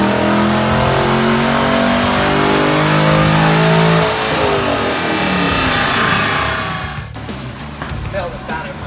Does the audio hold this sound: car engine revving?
yes